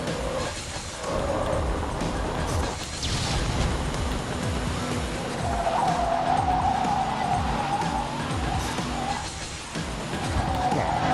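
Tires squeal as a car slides sideways on a handbrake turn in the arcade racing game Blur, engine roaring loudly and continuously throughout the drift.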